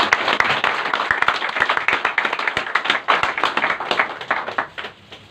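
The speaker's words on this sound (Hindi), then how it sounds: "और जोरदार ताली" A crowd claps loudly and continuously, dense applause with sharp individual hand claps throughout.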